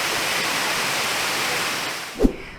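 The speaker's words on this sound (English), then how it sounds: "I could just sit here and listen to the sound of the water all day long" Steady broadband rush of a stream and waterfall, continuous and fairly loud, ending with a brief thump before it cuts off.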